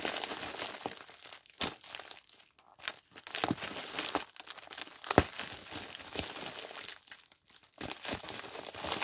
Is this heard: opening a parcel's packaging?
yes